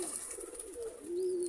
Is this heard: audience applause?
no